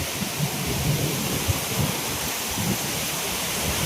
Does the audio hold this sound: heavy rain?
yes